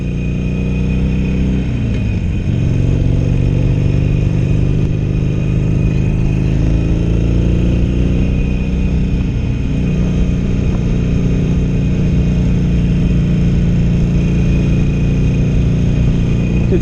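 A stock Harley-Davidson Iron 883 with its original exhaust pipe and no aftermarket parts rumbles loudly and close, idling with a steady deep throb and slight rises in revs.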